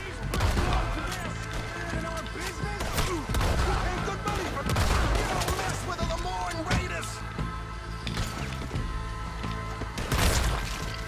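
Gunfire crackles through a Red Dead Redemption 2 firefight, repeated sharp shots and volleys mixed with crashes and game sounds, a steady busy barrage lasting several seconds.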